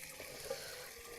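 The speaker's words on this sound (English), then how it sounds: "And here I am getting water." Water being collected on a walk out to fetch it, a steady hissing rush of flowing water like a running tap or spout filling a container, fairly quiet and continuous for a brief moment with no talking.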